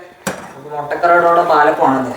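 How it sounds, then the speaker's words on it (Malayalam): A metal appam pan is taken up and set on a lit stove for palappam: a sharp close clank, then a run of ringing scrapes and rattles of metal on the burner. "പാലപ്പം ഉണ്ടാക്കാനായിട്ട് ചട്ടി എടുത്ത് സ്റ്റൗ കത്തിച്ച്"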